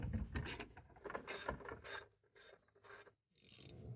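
A ratchet fitted with a 14mm socket loosens a nut on a Hummer, giving bursts of close, raspy clicking with brief pauses between strokes and no talking.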